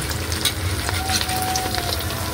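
Squash and small shrimp fritters (ukoy) frying in reused cooking oil, a dense, steady sizzle and crackle close by, continuous throughout with no talking.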